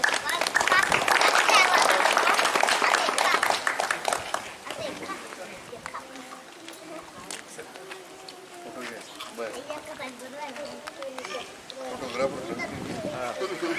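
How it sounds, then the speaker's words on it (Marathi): An audience claps loudly at a village retirement ceremony, a dense burst of applause for about four seconds that then thins out as a voice speaks over the last scattered claps. "जोरदार टाळ्या वाजवायच्या आहेत सर्वांनी."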